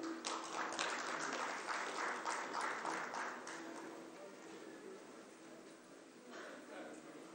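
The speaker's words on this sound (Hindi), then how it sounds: "आप सबकी तालियों में।" Audience applause at a solar home kit distribution event, a broad wash of clapping that is strongest at the start and then eases to a steadier, softer patter. Voices can be heard faintly underneath.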